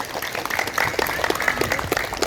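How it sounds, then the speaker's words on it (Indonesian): An audience of women at a community exercise-group gathering in Jakarta clapping, a short burst of uneven hand claps with some voices underneath. "Mohon tepuk tangan Bu."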